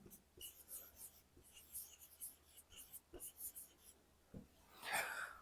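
A pen scratches out an English sentence by hand on paper, giving close, soft strokes in short bursts with small pauses and a quicker scribble near the end. Faint breathy voice sounds sit underneath.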